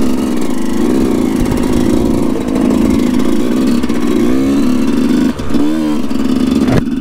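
A Yamaha 125 YZ dirt bike engine, just kick-started, runs loud and close with a buzzing two-stroke drone and several quick blips of the throttle.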